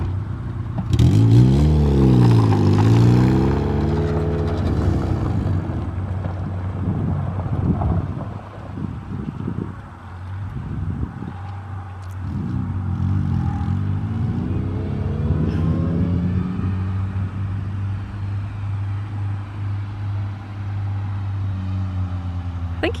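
A car backs up outdoors, its engine droning low and steady with a rising rev at the start, heavy wind buffeting the microphone throughout.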